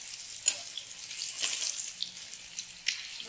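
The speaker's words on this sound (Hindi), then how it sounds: "दोनों साइड से हमें करारा एकदम फ्राई कर लेना है" Eggs fry in a pan, being turned to crisp on both sides, giving a quiet, steady sizzle with a few sharper crackles and spatters, with no voice over it.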